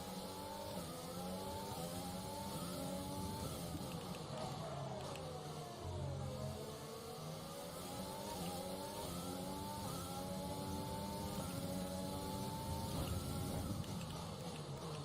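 A Formula 1 car engine in the racing game F1 2020 at the Brazil circuit, a continuous high-pitched whine rising and falling through gear shifts, steady and fairly loud with no voices.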